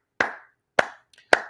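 Three sharp single hand claps ring out at an even pace, each crisp with a short decay, in an otherwise quiet room, with a faint tap between the second and third.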